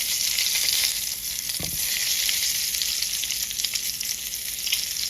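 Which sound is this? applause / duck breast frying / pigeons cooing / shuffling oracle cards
duck breast frying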